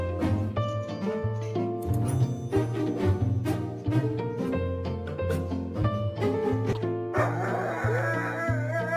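A dog gives a run of repeated yips and bow-wow barks with a few whimpers, loud and close, over a steady musical background.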